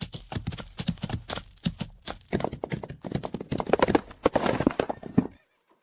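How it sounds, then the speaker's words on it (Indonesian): Horses' hooves clatter and shuffle as riders mount for a race, giving a dense run of close clip-clops with occasional neighs before the sound stops abruptly. "Penunggang naik kuda."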